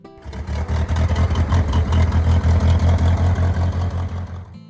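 A Minneapolis-Moline 335 vintage tractor engine runs steadily up close, a loud low chugging throb with a regular firing rhythm throughout, no voices.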